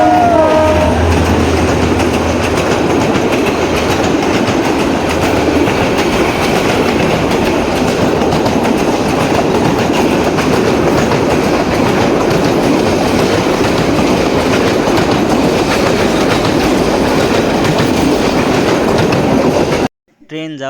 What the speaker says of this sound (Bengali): সামনে যেতে যেতে পড়ে গেল ট্রেনের জন্য দাঁড়ালাম।